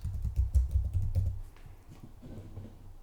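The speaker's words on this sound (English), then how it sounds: "I'll start by typing up the address." Rapid clicking of keys on a computer keyboard, a quick burst of typing that slows and softens toward the end.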